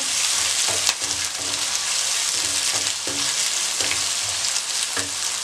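Chickpea pulao ingredients with green chillies lightly frying in a pot, a steady loud sizzle with rhythmic stirring scrapes recurring about every second, no voices.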